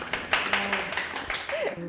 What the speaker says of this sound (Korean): 네, 큰 박수로.